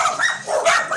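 A dog gives a brief, close, high-pitched yipping bark with a whimpering edge, heard alone without speech.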